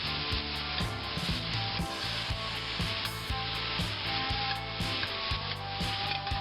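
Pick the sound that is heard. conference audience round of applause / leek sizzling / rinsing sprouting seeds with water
leek sizzling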